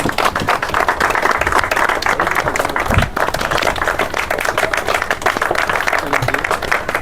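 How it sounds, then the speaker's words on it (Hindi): Steady audience applause in an open gathering of residents honouring a community leader, a dense wash of many hands clapping throughout at fairly loud level, with faint voices underneath. "तो सभी लोग तालियां बजाएं इनके लिए"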